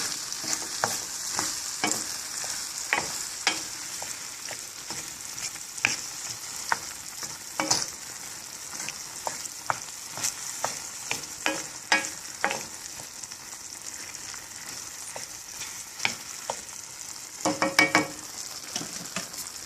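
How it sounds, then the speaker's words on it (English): A wooden spoon stirs turkey wings and succotash in a sizzling pot, with repeated scrapes and knocks against the pot over a continuous frying hiss, close and with no talking. "I need to stir this all together. So let me get a wooden spoon while I'm doing this."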